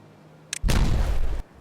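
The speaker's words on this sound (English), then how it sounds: "let's go put a triple dynamite in right there" A triple dynamite charge detonates in the video game Timberborn: a brief click, then one loud, deep, booming blast that lasts under a second and cuts off abruptly.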